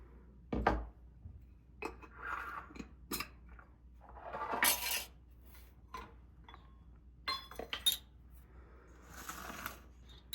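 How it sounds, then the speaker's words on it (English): Granola ingredients being mixed in a bowl, producing quiet, scattered clinks, rattles and rustling scrapes in irregular bursts, close by and with no talking. "Now we're gonna mix all of that together."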